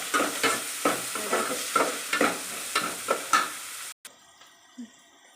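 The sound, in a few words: onions frying in a pan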